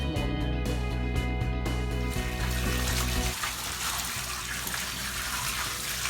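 Tap water running into a cleaning bucket with Zoflora disinfectant, a loud steady gushing stream with a humming tone at first, then a softer, more splashy fill as the level rises.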